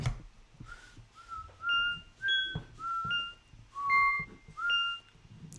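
A person whistles a short, clear melody of about seven sustained notes, each held briefly with small pitch slides between them, close and fairly loud in a quiet room.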